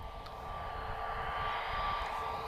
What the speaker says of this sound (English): I'm glad to bring you the 777 from here. It feels like it's been ages since we've seen Emirates take off from this side.